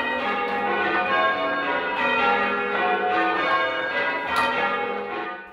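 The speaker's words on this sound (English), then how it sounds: "This is the first ringing on a viewing gallery in the church since Victorian times." Church bells ring at St. Giles in Chideock, Dorset, rung by a band from a viewing gallery with shortened ropes; a dense, sustained peal of overlapping strikes fills the clip, loud and close with no talk.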